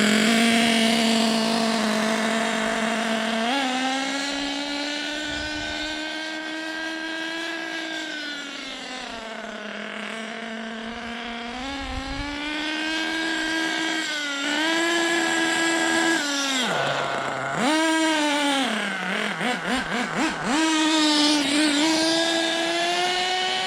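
An HPI Trophy Truggy 4.6 (.28) nitro RC car engine runs at a high-pitched buzzing whine, rising and falling steadily with throttle changes and sharp revving blips near the end, loud and close with no talk.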